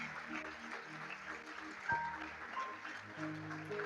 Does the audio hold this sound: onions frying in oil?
no